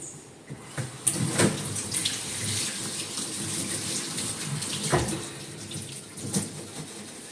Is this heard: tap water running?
yes